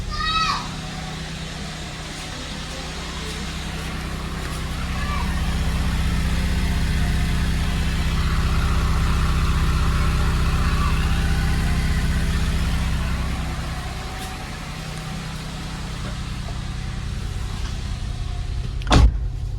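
A car engine idles steadily while warming up in the morning, a low continuous rumble with a brief whine near the end; a voice speaks intermittently over it.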